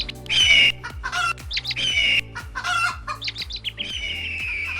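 Young people in China mimic bird calls with their voices, producing loud squawks, clucks and chirping cries in rapid bursts over a steady low background hum.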